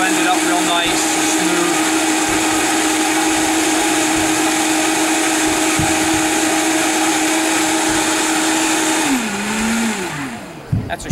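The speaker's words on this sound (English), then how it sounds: "Here we go with the Vitamix again. I just let it run for about a minute." A Vitamix blender runs at full speed, a loud steady high-pitched motor roar with a churning whir that holds for about nine seconds, then winds down with a falling pitch and settles toward the end.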